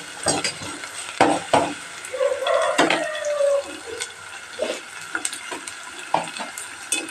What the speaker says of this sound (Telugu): వేగేటప్పుడే కొంచెం ఉప్పు వేసేస్తాం. తొందరగా ఎర్రగడ్డ వేగిపోతామండి.